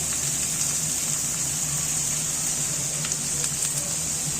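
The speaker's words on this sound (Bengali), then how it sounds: "এবার নাড়িয়ে চাড়িয়ে ভালো করে পেঁয়াজটা লাল করে ভেজে নিচ্ছি।" Steady sizzling of onions frying in hot oil, a constant crackling hiss with a few small pops, close by and unbroken.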